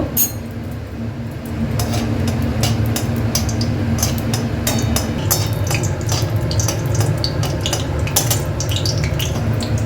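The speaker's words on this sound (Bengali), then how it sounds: "তেলটা গরম হয়ে গেছে, ওটা গোটা শুকনো লঙ্কা" Whole dried red chillies frying in hot oil in a kadai, giving a soft steady sizzle broken by scattered metallic clinks and scrapes of a utensil against the pan.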